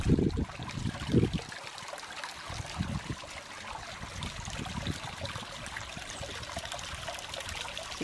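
Constant gentle splashing and trickling of a garden waterfall, with a few low thumps and bumps near the start.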